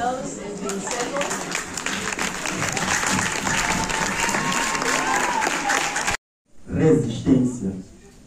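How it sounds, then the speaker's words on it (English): Loud, sustained applause and crowd noise at a school quiz competition, many hands clapping steadily under cheering voices, then a sudden cut to silence followed by a short burst of voices and claps. "A big round of applause"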